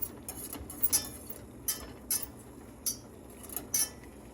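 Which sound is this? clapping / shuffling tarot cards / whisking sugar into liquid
whisking sugar into liquid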